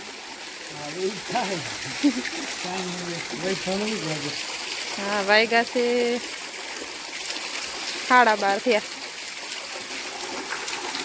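Water running steadily outdoors as a continuous trickling stream, heard under someone talking in bursts throughout.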